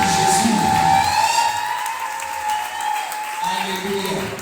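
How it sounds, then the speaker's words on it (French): Church congregation at a praise and worship service clapping for Jesus, a loud sustained burst of applause that eases slightly, with voices and a held musical tone underneath. "Acclame pour Jésus."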